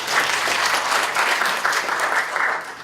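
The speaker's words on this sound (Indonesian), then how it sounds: "Kita beri tepuk tangan dulu." A church congregation breaks into applause during a sermon, a loud, full burst of many hands clapping in rolling waves that runs continuously throughout.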